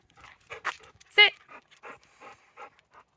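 Hershey, a dog in a car, pants close by in quick, rhythmic breaths, about a dozen short huffs with one louder gasp partway through, and no talk.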